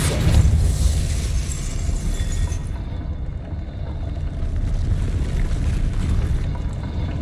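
A Depulso spell is cast in Hogwarts Legacy with a loud whooshing burst that rolls into a low rumble, fading after a few seconds into a steady windy background.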